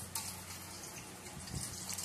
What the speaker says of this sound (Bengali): অল্প নুন দিয়ে দিচ্ছি আর পরিমাণ মতো জল ঢেলে দিচ্ছি